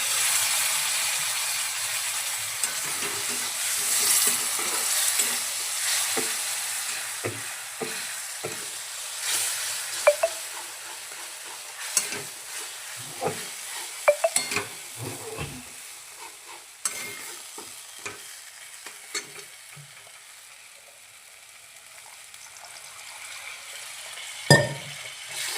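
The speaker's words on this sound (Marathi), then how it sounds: "आपण त्या मसाल्यामध्ये थोडंसं पाणी टाकून मसाला आणखीन भाजून घेऊ" Spice masala for a village-style egg curry roasts in a pan as water is added, with steady frying sizzle, scraping stirs and occasional utensil clinks against the pan throughout.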